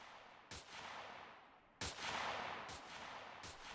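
Gunfire in the video game Colony Survival, several sharp shots spaced apart with a long echoing tail after each, fairly loud against a quiet background.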